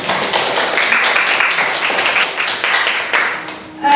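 An audience of students at an Indonesian-language talk claps together in a dense, loud, sustained wash of applause that tapers off at the end.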